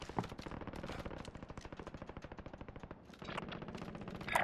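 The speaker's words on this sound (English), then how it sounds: "Gunshots over here." Rapid bursts of automatic gunfire rattle continuously, a short pause, then another sustained volley with sharp cracks at the end.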